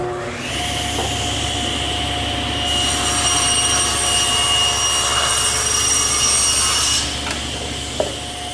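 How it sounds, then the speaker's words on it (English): A table saw cuts a quarter-inch-deep tongue for a breadboard edge on a bedside table, a steady motor whine with a high-pitched blade cutting through wood for several seconds, then winding down with a small knock. "I've set up the saw 3/4 of an inch away from the fence and about 1/4 of an inch deep"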